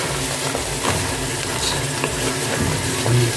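Crab being stirred in a pan of ginataang coconut sauce, a steady close sizzle and bubbling with a few clinks and scrapes of the spoon against the pan.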